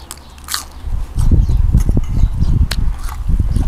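Close, loud crunchy bites and chewing of Korat-style dry noodles eaten with banana blossom and sweet peppers, with crackly chomps in a steady run.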